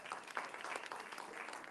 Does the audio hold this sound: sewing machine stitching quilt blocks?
no